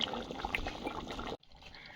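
A large basin of curry bubbles steadily at a rolling boil, a close, dense simmering wash that cuts off abruptly partway through.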